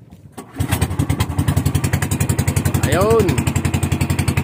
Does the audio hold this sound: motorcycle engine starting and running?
yes